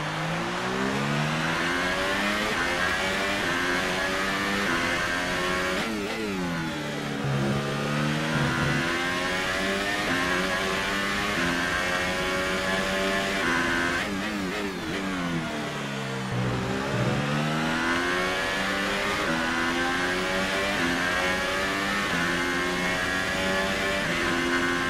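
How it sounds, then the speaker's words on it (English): A car engine revving continuously, its pitch rising and falling in long sweeping cycles with two dips as it eases off and climbs again, loud and steady throughout, no talking. "Don't wait too long to turn the engine down."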